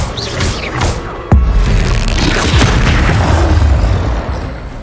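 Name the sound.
Incendio fire spell effect in Hogwarts Legacy video game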